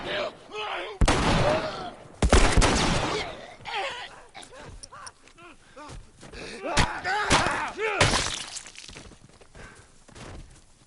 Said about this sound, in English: Kind of surprised that was a rifle shot and a revolver shot as well